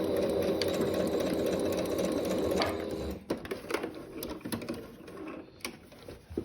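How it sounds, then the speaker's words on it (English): A sewing machine stitching a dress sleeve runs in a steady, fast whirring hum for about three seconds, then slows into uneven clicking and short bursts while back stitching, close up. "I want to go a little bit past the point where the sleeve attaches and then back stitch."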